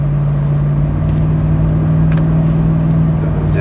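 A supercharged 2UZ V8 in a 100 Series Land Cruiser drones steadily under load from inside the cabin, a strong low hum holding constant throughout the short stretch.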